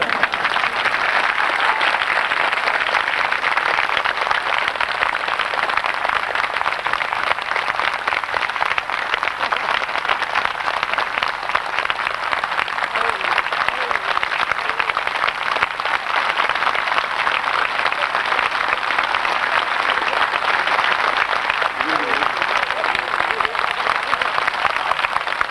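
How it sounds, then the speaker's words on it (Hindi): An audience at a 1998 Holi spiritual camp claps continuously, a dense, even patter of many hands that holds steady throughout without pause. "दूसरा पाठ ये है कि आप मुस्कुराते हुए तालियां बजाइए।"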